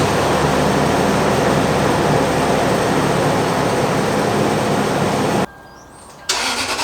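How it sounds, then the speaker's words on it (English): A Toyota 4-liter V6 engine cranks and catches on a cold start, settling into a loud, steady high idle roar, then cuts to near silence briefly before the sound returns. "I'm going to put a clip of a cold start of my Tacoma right next to a cold start of the 4Runner"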